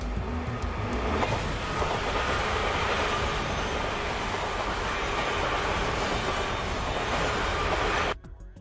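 Train rolling along railroad tracks in an anime scene, a loud, steady rumble with clattering wheels that carries on unbroken for about eight seconds, then cuts off abruptly into near silence.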